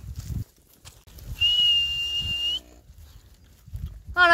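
A cattle-calling whistle sounds on a pasture in February, one long steady high blast held for about a second, with faint rustling and low handling noise around it and a short chirpy whistle at the very end.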